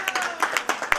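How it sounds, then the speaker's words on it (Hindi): Guests at a wedding clap their hands in a short burst of sharp, irregular claps, close and fairly loud, with faint voices underneath. "तालियां मार दो भाई"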